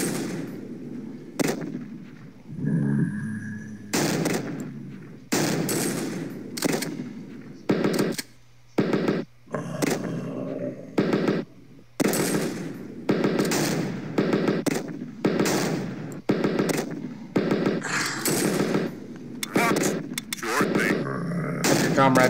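Slowed-down gunfire in a shooter game, heavy drawn-out booming shots spaced in an irregular rhythm across the stretch, loud and close with short silences between them.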